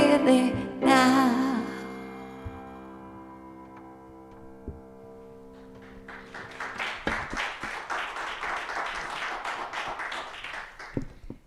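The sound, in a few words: audience applause at church service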